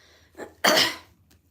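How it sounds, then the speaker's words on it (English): A single short, sharp cough bursts out close to the mic, preceded by a faint intake of breath, then quiet. "Keep coughing, I'm sorry."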